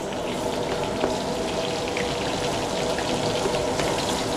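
Garlic and onion frying in a pan, a steady dense crackling sizzle with scattered pops, close and continuous with no talk.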